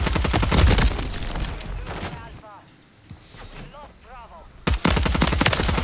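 Bursts of gunfire from Call of Duty: Modern Warfare III, a Superi 46 loadout, loud at the start and end with a quieter stretch of small game sounds between, mixed under voices talking over the action.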